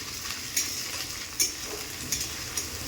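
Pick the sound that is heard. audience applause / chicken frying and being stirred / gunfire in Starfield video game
chicken frying and being stirred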